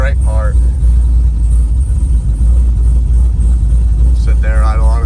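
Pontiac WS6 with a 500 hp engine idling steadily, a loud continuous low rumble throughout with brief bursts of talk at the start and end.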